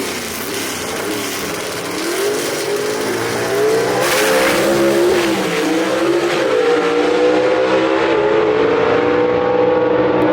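Ford Mustang gasser drag racer launches at a dragway, engine roaring and climbing through revs with tire noise, loud and close, the pitch rising steadily as the car pulls away.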